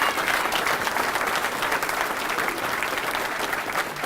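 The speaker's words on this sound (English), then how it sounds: "How about a round of applause for all our vets?" Audience at a Wounded Warriors in Action fundraiser luncheon gives a round of applause for veterans, a dense, steady wash of clapping sustained throughout at even loudness.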